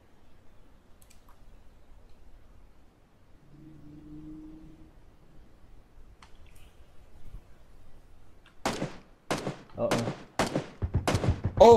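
Gunfire in the battle royale shooter PUBG: after a long quiet stretch with a faint low hum, a rapid run of sharp loud shots bursts out near the end, close and repeated in quick succession.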